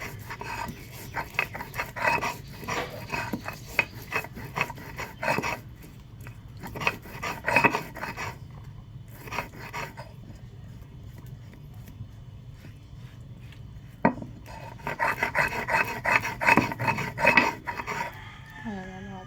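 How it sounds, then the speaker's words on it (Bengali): Ginger being cut or grated in a home Bengali kitchen while oil heats, heard as bursts of rasping, scraping strokes in repeated clusters with quieter pauses between, close and fairly loud, with occasional utensil clinks. "তেলটা গরম হতে লাগুক, আমাদের আদা কাটা হয়ে যায়।"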